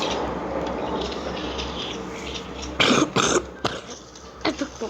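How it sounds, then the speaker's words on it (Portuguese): A few sharp coughs burst out in quick succession over steady background noise, followed by a couple of smaller, quieter coughs. "Eu tô com tosse."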